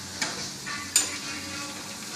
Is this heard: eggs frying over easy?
yes